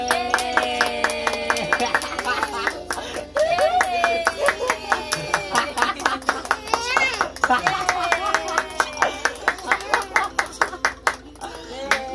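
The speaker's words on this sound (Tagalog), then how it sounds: "Palakpak kayo lahat. Palakpak kayo." Children clap at a photoshoot in quick, uneven bursts of sharp claps that run through the whole stretch, mixed with an adult's coaxing voice and children's chatter.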